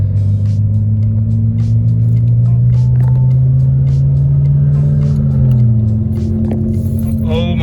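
Loud, steady low engine drone from an Audi 90 Quattro running up close, a constant rumbling idle with a faint shift in pitch near the end and light rattles on top.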